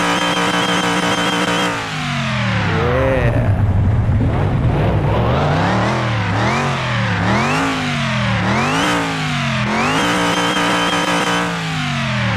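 A freshly rebuilt, cold Chevrolet El Camino engine in Car Mechanic Simulator revs loudly and repeatedly to the redline, climbing and dropping in rapid cycles that rise and fall in pitch, with no one speaking.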